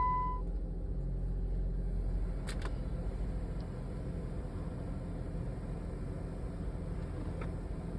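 A car engine idling just after starting with the air conditioning running, a low steady rumble and hum with a couple of brief clicks early on, fairly quiet and without talk.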